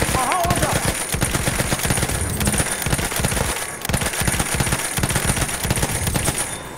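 Battlefield 1 multiplayer gameplay is full of loud, continuous gunfire: rapid automatic bursts and dense crackling shots carry on almost without a break, with only a brief dip partway through.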